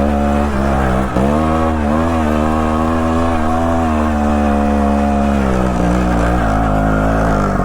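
A trials motorcycle engine drones steadily and loudly as the bike rides up a sketchy climb in Emmett, Idaho, its pitch wavering slightly with throttle over several seconds.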